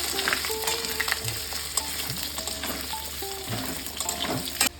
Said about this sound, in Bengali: এবার ওই তেলের মধ্যে আলুটা ভেজে নেব।